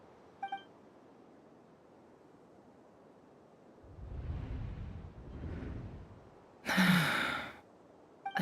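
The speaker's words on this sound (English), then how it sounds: "I heard Yoda gasp" A gasp from the video game character Yoda, a short breathy intake followed by a longer airy exhale, preceded by softer breathy swells and faint electronic beeps at the start.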